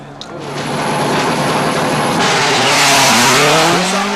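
A Citroën rally car on the Col del Grau stage of Rally Catalunya in 2007 roars past loud and close, its engine rising and falling through gear changes with tyre scrabble over a steady road roar.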